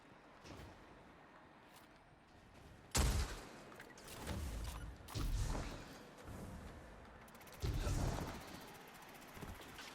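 Destiny 2 gunfire during a raid-style challenge comes as several sharp, heavy bursts and thuds spread over a few seconds, fairly quiet overall with scattered quieter impacts between.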